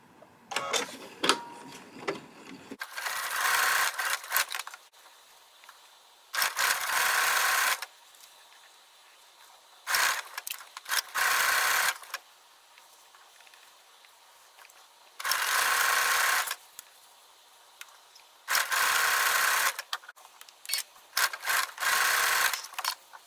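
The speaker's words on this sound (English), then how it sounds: "With right sides facing each other, I'm going to stitch a 1/4 inch seam." A sewing machine stitches a quarter-inch seam through fabric pieces placed right sides together, running in several loud, steady bursts of a few seconds each with short quiet pauses between.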